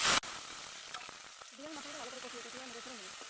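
Ground spice paste fries in hot oil with cumin leaves, making a soft, steady sizzle heard up close. A brief louder burst comes at the start, and a voice talks over the frying.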